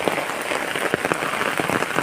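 Rain falls steadily on a still, windless, overcast morning, a dense pattering wash with scattered sharper drops throughout.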